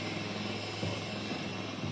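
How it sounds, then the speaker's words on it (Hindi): Prachand Light Combat Helicopter of the Indian Air Force settling onto the base after landing, a steady faint rotor and turbine hum heard from a distance with no voices. "अब एक बार फिर से उनका हेलीकॉप्टर बेस पर लैंड कर चुका है"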